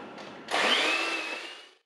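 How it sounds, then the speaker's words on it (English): Butter and caster sugar being whisked together in a bowl, a steady close whirring mix that starts abruptly, holds for over a second and then cuts off. "I'm going to mix them together using a whisk"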